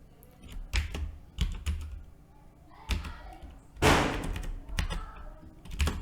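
Irregular clicks and clacks of computer keyboard keys being typed nearby, coming in short bursts with pauses and a few heavier thumps of the keys.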